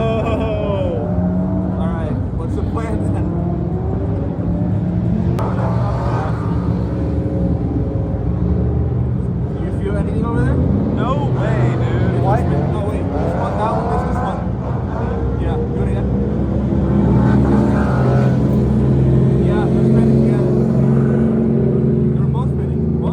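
A JZ-swapped Nissan 240 runs with its engine rumbling steadily and loudly throughout, one wheel spinning, while voices talk over the constant mechanical drone.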